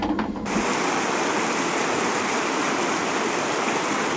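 Continuous dense rush of stream water running through a water-powered flour mill in a mountain village in Pakistan, loud and close, with a brief muffled moment at the start before the full roar.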